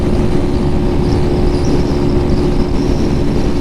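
Lifan KPM 200 motorcycle, a 200cc bike, cruising at steady highway speed around 76 mph, with a constant loud engine drone mixed with wind rush and no break in level throughout.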